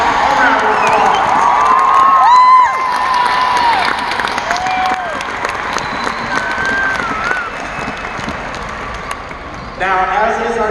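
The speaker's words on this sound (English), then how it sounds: "Give yourselves a round of applause." A large crowd claps, cheers and whoops at the opening ceremony of the 2019 VEX Robotics World Championship in Louisville, Kentucky, with loud, sustained noise across the whole stretch and shrill individual shouts rising above the roar.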